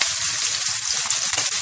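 Vegetables for homemade noodles, salted and seasoned with soy sauce, fry in a pan with a loud, close, continuous sizzling hiss over a brief stretch.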